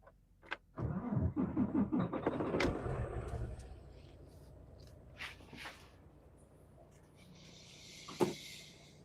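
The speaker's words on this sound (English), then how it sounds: "I'm going to fire this truck up." A truck engine cranks and turns over at close range, with a burst of rapid starter pulses settling into a low idle rumble, followed by a few fainter clicks and a brief hiss near the end.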